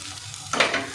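Potato filling frying in a pan as it is stirred, a short burst of scraping and sizzling that swells midway through.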